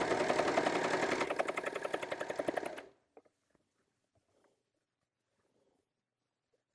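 A serger runs fast and loud along a T-shirt seam, a dense buzzing stitch for about three seconds before stopping abruptly, followed by a few faint clicks and near silence.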